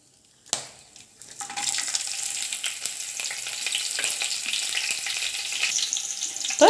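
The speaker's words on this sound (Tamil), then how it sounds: "நம்ம பச்சை மிளகா ஆட் பண்ணிக்கலாம்." Green chillies sauté in hot oil with cloves, bay leaf and cinnamon for a vallarai keerai pulao, a loud steady sizzle starting abruptly after a sharp drop-in and holding for several seconds, with faint stirring scrapes and no talk.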